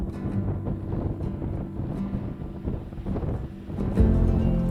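Steady wind rushing and buffeting across Lago Argentino near El Calafate, Patagonia, a low continuous roar with gusts that swell louder near the end.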